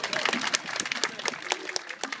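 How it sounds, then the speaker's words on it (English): Scattered, muffled hand claps from a small street crowd watching a performer in Chester's Northgate Quarter, quick irregular claps at steady moderate volume for a couple of seconds, with faint talk mixed in. "can we have a muffled round of applause for Steve"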